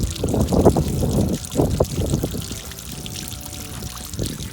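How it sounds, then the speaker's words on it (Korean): Water drains from a bathroom sink through a pop-up drain fitted in the wrong direction, with close gurgling and bubbling bursts that come in irregular surges, then thin to a softer trickle. "손을 띄는 순간 배수되는 소리가 약간 달라지는 걸 느꼈습니다"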